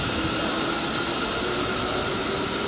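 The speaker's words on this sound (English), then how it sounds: "Class 350 leaves for Manchester Airport." A Class 350 electric train pulls out of Preston station, giving a steady, even roar of motor and wheel noise with a faint high whine, constant and fairly close throughout.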